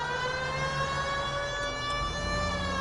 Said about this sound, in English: it's a convertible with that siren